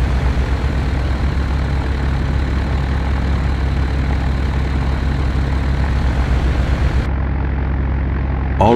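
Douglas DC-3 piston engines idling and taxiing in Flight Simulator X, a loud steady propeller drone with a constant low rumble throughout, alone with no voices.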